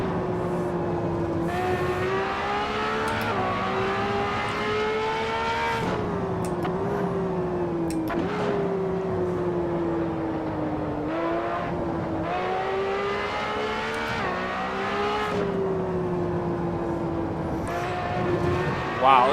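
Simulated LaFerrari engine in Assetto Corsa at Spa-Francorchamps, a loud, steady high-pitched wail with gear shifts and rising and falling revs that run continuously close up.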